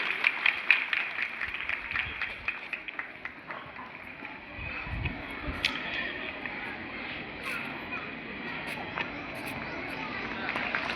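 Crowd applause greeting guests at a school tree-planting and donation ceremony, a steady patter of many hands clapping at moderate distance, sustained across the whole stretch with voices faintly beneath.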